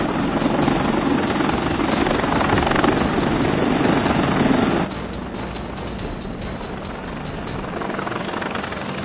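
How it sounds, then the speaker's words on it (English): An Apache helicopter on a ship's flight deck spins up its rotor, a loud, continuous throbbing whine with a rapid rhythmic chop that eases down partway through and then holds steady. "On the flight deck, an Apache spins to life."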